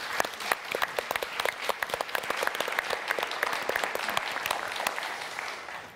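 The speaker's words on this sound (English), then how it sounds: "Well-deserved applause." A conference audience gives a sustained round of applause, many hands clapping at once with distinct nearby claps popping out over the continuous patter.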